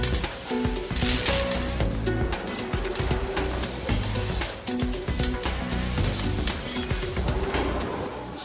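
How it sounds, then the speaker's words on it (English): Factory robots clamping and spot welding a Nissan GT-R body shell of steel, aluminium and carbon fibre: dense hissing, crackling bursts over clanking machinery and hum, loud and continuous. "clamping, squeezing and spot welding the body shell"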